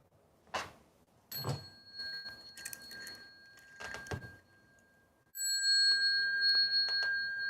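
Buddhist ritual bell struck several times: sparse ringing strikes with long, clear sustained tones, then a louder run of steady ringing near the end, with no speech.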